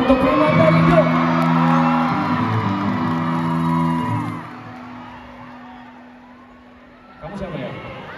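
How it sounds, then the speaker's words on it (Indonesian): A concert crowd at a show in Jakarta whoops and cheers in loud, drawn-out shouts, then fades to a quieter murmur before a fresh swell of cheering. "Boleh tepuk tangan untuk Prima Tarigo"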